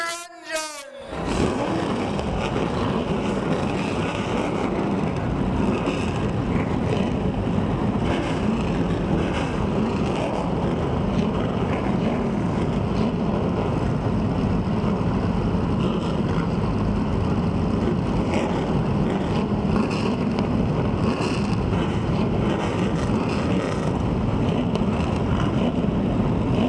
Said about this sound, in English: it's time for the most famous words in racing. Gentlemen, start your engine!